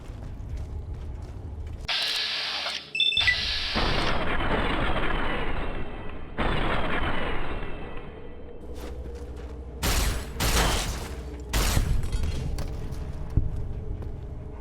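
Gun turret firing in Fallout: New Vegas: loud mechanical bursts of rapid fire in several separate volleys, with clanking mechanism sounds between them and a few short sharp cracks near the end.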